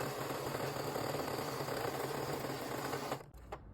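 An electric sewing machine stitches through fabric with a fast, even, buzzing run of needle strokes, close up and steady for about three seconds, then it stops abruptly and a couple of small clicks follow.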